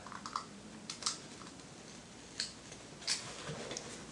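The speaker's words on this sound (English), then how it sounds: "this is a little trickier, with the scissors because these scissors aren't that sharp" Blunt scissors cut slowly through a mousepad, giving a few scattered, faint snips and rasps at an irregular pace with no voice.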